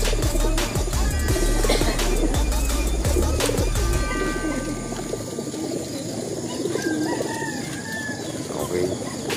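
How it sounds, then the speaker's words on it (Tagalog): Racing pigeons wait in a crate before a club release at 7 a.m. in Pililla, Rizal. Low cooing and bird calls mix with a rooster crowing and outdoor bustle, with some low thumping early on. "Ito mga ibon natin, nakahanda ng lumpat kanina pa to,"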